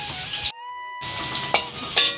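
Potatoes frying in hot oil in a pan, giving a steady close sizzle with a brief quiet gap and a few sharper crackles and spatters.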